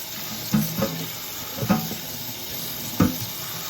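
Warm tap water runs over collard greens in a strainer, a steady soft rush broken by three brief clattering bumps as the leaves are handled.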